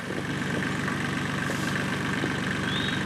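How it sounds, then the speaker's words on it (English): A Ford tractor engine idles steadily in a clover field before mowing, a continuous low rumble held close and fairly loud with no break. "A Ford tractor sitting on America soil, made in America"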